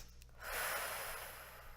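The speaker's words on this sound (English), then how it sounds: "Inhale, 2 sniffs." Two quick nasal sniffs drawn in as an inhale during a Pilates hips and glutes workout, close and soft, a breathy rush over a quiet room.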